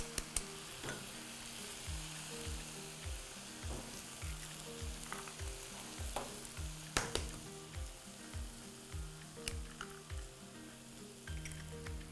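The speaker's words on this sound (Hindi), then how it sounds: "Now I'm just going to add the eggs." Eggs go into a pan of spicy green vegetable shakshuka with a soft steady sizzle, while music with a regular beat plays and occasional clinks and scrapes punctuate the quiet frying.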